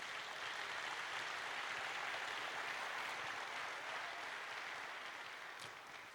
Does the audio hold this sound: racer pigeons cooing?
no